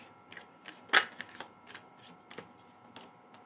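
Tarot cards drawn and handled during a love reading, giving soft close card flicks and slides in an uneven sequence, with one sharper snap near the start and otherwise quiet surroundings.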